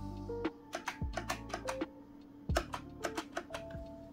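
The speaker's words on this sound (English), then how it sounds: "we're now going to start with the sound of the keys, starting with the spacebar" Spacebar presses on a Corsair K70 mechanical keyboard, a run of about a dozen sharp, close clacks in an uneven rhythm, some with a low thock, alone with no talk.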